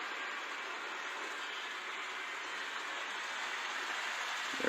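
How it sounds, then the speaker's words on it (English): A model train runs steadily on its track, giving a continuous whirring, hissing rumble that stays even throughout, with no talking. "and I can speed the train up"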